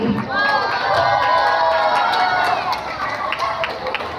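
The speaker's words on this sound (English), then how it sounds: "A big round of applause for him." A school prize-giving crowd cheers and claps for a student winner, a loud sustained wash of raised voices and shouts with some scattered clapping beneath, holding steady for several seconds.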